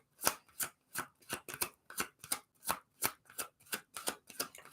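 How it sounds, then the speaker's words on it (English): Oracle cards shuffled by hand during a live card reading, a steady run of about a dozen crisp riffling bursts close to the mic, with no talking. "we are getting a card for Sherry Lee"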